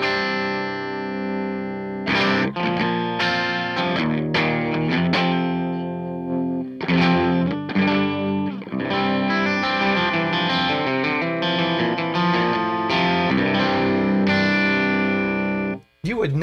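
An electric guitar through the distorted channel of a Super Crush 100 amp, turned down, plays bright, ringing chords and picked notes with a clean, chiming tone and slight effects, continuing steadily throughout.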